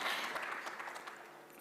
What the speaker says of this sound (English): So let us put a big round of applause for all the speakers who have traveled to Bahrain today.